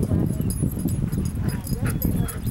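Young dogs playing together at a dog park, with close, dense scuffling, yips and short whimpering barks mixed into a busy outdoor background; a voice talks faintly underneath.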